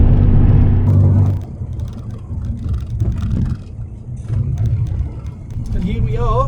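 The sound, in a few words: old Ford Capri classic car driving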